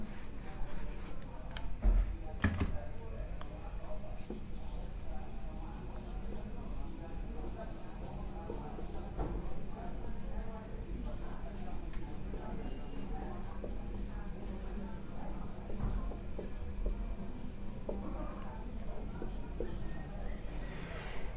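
Marker or chalk writing out a chemical equation on a classroom board, soft intermittent scratchy strokes heard faintly beneath a teacher's quiet speech.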